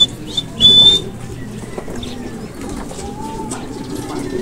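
Birds call outdoors at a racing pigeon loft, with a brief bright whistle-like note early on and softer pigeon cooing over steady background noise.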